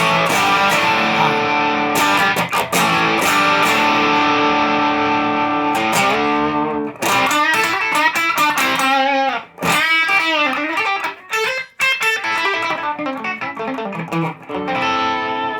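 Electric guitar played through a JHS Sweet Tea overdrive pedal, crunchy distorted chords and sustained notes ringing out, then choppier riffing with brief pauses.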